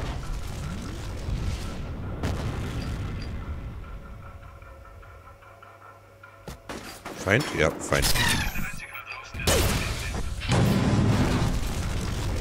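Explosions and gunfire in the first-person shooter F.E.A.R., loud broadband blasts and booms bursting repeatedly in the second half over a rumbling game soundtrack, with someone speaking German between them.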